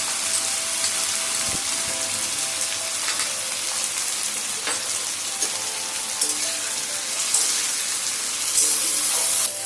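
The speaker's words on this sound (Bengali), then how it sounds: "মশলাটা দেওয়ার পরে আমি সামান্য জল দিয়ে দিলাম যাতে মশলাটা ধরে না লাগে।" A little water poured onto cumin and ginger paste in a hot pan: a loud, steady hiss and sizzle that holds for the whole stretch, close up with no voices.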